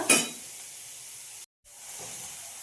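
Shredded cabbage for masala wheat dosa frying in a hot pan, a steady bright sizzle with a sharp burst at the start and a brief break midway before the hiss resumes.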